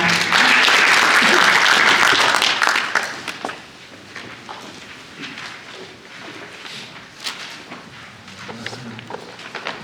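Audience applause at a government seminar on support for small businesses, a loud dense burst of clapping for about three seconds that drops to scattered claps, footsteps and shuffling.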